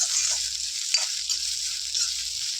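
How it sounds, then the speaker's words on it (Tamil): Steady oil sizzle of onions, chilies and ginger frying in a pan for Madurai water chutney, loud and continuous with faint stirring scrapes, no voices. "எல்லாத்தையும் கொஞ்சம் வதக்கணும்"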